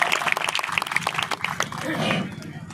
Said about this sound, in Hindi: एक बार जोरदार तालियां बजाकर अभिनंदन करें भाई साहब का